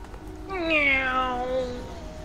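Single drawn-out cat meow from the Final Fantasy XIV video game, clear and close, rising then sliding down over about a second against quiet background.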